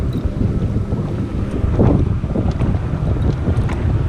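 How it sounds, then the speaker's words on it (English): Strong wind roars steadily across the microphone on a bass fishing boat out on open water, a loud continuous rushing with gusts and no speech. "It sucks with this wind."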